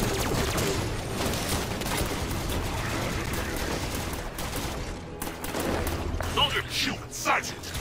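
A plasma caster weapon fires in a Halo battle, its bursts mixed with other gunfire and rumbling combat noise under voices, with sharper crackling blasts toward the end.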